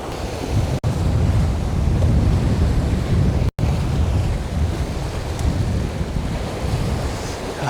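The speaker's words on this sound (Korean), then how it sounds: "바람도 세고 바람이 시원한 바람이에요." Strong, cool wind gusts across a rocky coastal fishing spot, loud continuous roar mixed with crashing surf, with a couple of abrupt brief dropouts.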